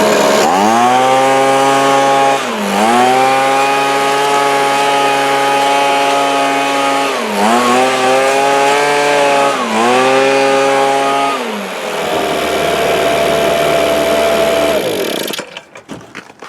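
Small two-stroke engine on a Toro Powervac T25 leaf blower running loud and close, revving up and settling repeatedly in three or four throttle blips, then dropping to a lower idle before cutting off.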